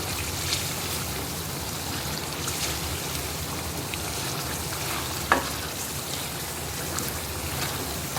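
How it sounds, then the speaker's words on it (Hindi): Karahi gosht meat being sautéed with ground coriander and spices in a karahi, a steady loud sizzle and fry with occasional stirring clinks and scrapes, close up and without talk. "फिर भूनते हैं हम इसे अच्छी तरह"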